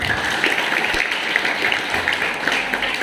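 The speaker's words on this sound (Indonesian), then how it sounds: "Tepuk tangan buat Mbak Ira." Steady applause from a crowd fills the whole stretch, a dense even patter of clapping with no pauses.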